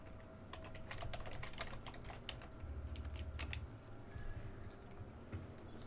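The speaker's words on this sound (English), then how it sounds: "I was typing on the other screen" Computer keyboard typing during a World of Tanks live stream, a quick run of scattered key clicks with uneven rhythm over a steady low room hum, close and moderately quiet.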